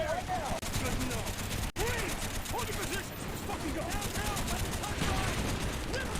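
Sustained automatic gunfire in Call of Duty: Black Ops, a dense, continuous clatter of shots with scattered echoing cracks, loud throughout.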